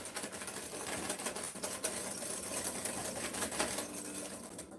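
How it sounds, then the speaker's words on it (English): A whisk beats cream and egg yolks together in a bowl, giving a fast, steady patter of metal tapping and swishing that runs continuously and close without pause. "all you do is whisk it together really well"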